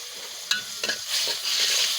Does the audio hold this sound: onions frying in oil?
yes